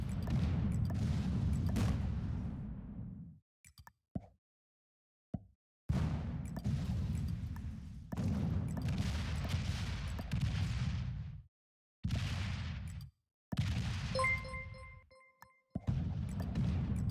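Bursts of gunfire and booming artillery from attacks in a territory-conquest strategy game, loud rumbling barrages in repeated blocks separated by short silences, with a few isolated shots between them.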